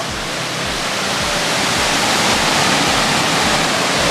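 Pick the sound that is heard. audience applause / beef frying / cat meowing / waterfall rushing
waterfall rushing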